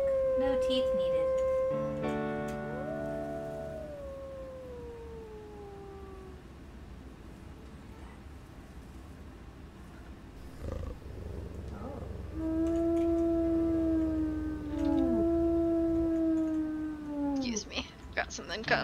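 Several wolves in the video game WolfQuest give long, tonal howls that rise and slide downward, some overlapping in layers, with a quieter gap in the middle before a louder cluster of howls near the end.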